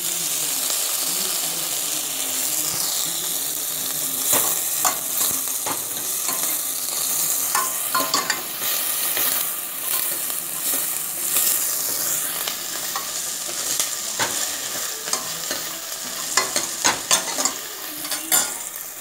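Onions sauté in a pan with salt for sambar rice, a continuous hissing sizzle broken by repeated scraping and tapping of a spoon as they are stirred, close and prominent throughout.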